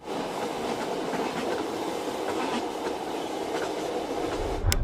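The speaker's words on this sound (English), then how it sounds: "the train ascends approximately 20 meters as it completes its spiral" A train rolls steadily across a nine-span spiral viaduct on a steep, sharply curving climb, its continuous rumble carrying faint rhythmic clickety-clack of wheels, with a brief louder clank right at the end.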